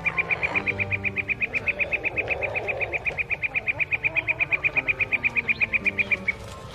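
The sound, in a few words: twittering of migrating birds overhead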